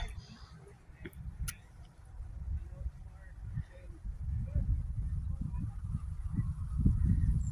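Geese honking outdoors at a moderate distance under big old shade trees on a homestead, scattered calls under low, murmuring voices nearby.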